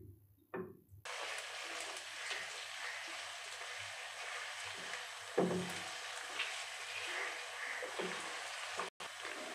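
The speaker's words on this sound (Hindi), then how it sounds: "अदरक लहसुन को थोड़ा सा भूनने के बाद 1 कप पानी डाल देंगे" Ginger-garlic paste fries in a pan for a chicken makhni handi, giving off a soft, steady sizzle and hiss that carries on quietly for several seconds, with a few faint clicks.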